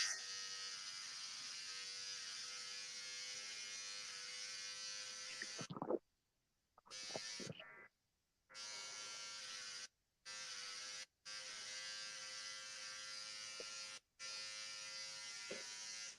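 Electric hair clippers shaving the sides of a head give a steady close buzzing drone, broken by several short stops and restarts partway through.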